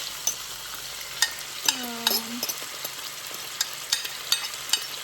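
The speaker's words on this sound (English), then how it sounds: "you're gonna add the saltfish." Saltfish and garlic sizzle in a hot pan, a steady frying hiss broken by scrapes and knocks as the mixture is stirred. One sliding squeak of the utensil stands out.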